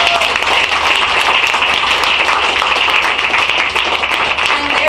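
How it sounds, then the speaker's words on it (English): An audience at The Rum Exchange applauds for Marc, with loud, dense, sustained clapping from many hands close by, steady throughout. "Can we give a round of applause for Marc?"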